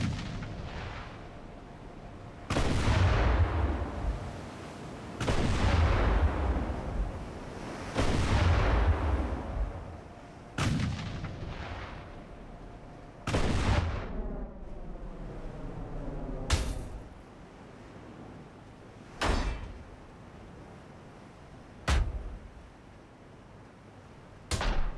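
Naval ship guns in Ultimate Admiral: Dreadnoughts booming in about nine heavy, separate shots with long rumbling decays, spaced a few seconds apart and growing slightly sparser toward the end.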